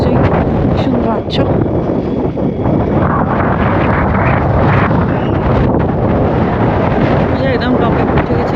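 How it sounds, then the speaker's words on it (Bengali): Strong wind roars at the exposed summit of the Great Orme, buffeting the microphone in a loud, unbroken rumble that fills the whole stretch and buries any other sound. "হাওয়ার আওয়াজটা তোমরা নিশ্চয়ই শুনতে পাচ্ছ।"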